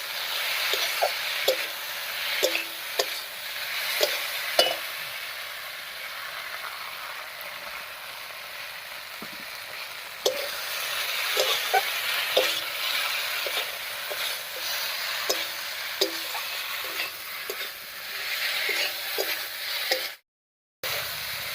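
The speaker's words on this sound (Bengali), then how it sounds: "মশলাগুলো দিয়ে নাড়িয়ে নিয়েছি" Ground chilli, ginger-garlic paste and cumin sizzle steadily in a pan for a Bengali small river fish curry with potato and brinjal, with a continuous frying hiss broken by scattered light scrapes and taps of stirring.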